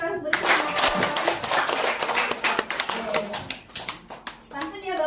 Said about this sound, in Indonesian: Kita aplaus untuk kita bersama.